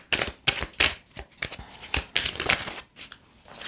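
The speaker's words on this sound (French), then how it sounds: "Je vais juste recouvrir la carte du haut là." A playing card is laid over the top card of a spread during a card reading, producing a series of close, crisp swishes, slides and snaps of card stock, with no talk.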